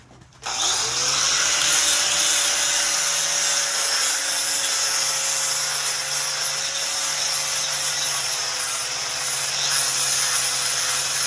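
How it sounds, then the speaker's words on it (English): A power tool starts abruptly and then runs as a steady high whine while sanding a carved pine stump bear after light burning. It is loud and close, holds for about eleven seconds and has no talking over it. "I'm not going for perfect with this sanding, just cleaning up a little bit."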